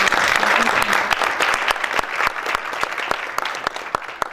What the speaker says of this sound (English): If we could just give the 3 a round of applause just for their amazing